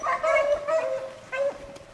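Beagle hounds give a few short yips and barks in quick bursts, fairly close and moderately loud, with a faint trace of voices in the background.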